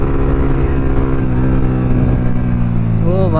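A KTM 390 motorcycle runs on a winding cornering road, its engine droning loud and steady up close under wind, with a brief rising whine at the end.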